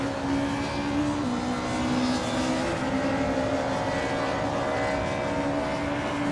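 A classic 1996 Opel Calibra DTM racing down the Monza straight in a video game, its engine a steady sustained drone with a slight pitch dip partway through, loud and unbroken with no talk.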